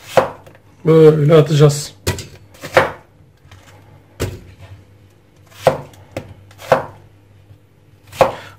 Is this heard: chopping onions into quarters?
yes